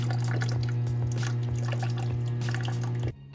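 A GE Opal 2.0 nugget ice maker runs its cleaning cycle with a steady low motor hum and continuous trickling, dripping water. Both stop abruptly near the end.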